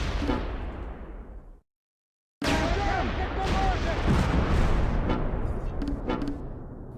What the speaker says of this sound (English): The Granatwerfer is out of smoke. It fires high explosive at Russian infantry fleeing from the riverbank.